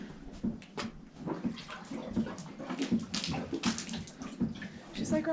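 Water splashes and runs into a basin or tub, with scattered clinks and rustling and a few soft voices nearby.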